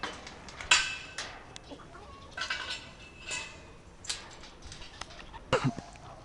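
Chickens cluck and squawk in short, scattered calls around a poultry house, moderately near over a soft outdoor background.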